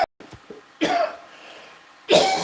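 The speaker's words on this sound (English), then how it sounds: "He stops coughing." A man coughs in a few harsh bursts, close and fairly loud, with a quieter stretch between the first fit and the last strong cough.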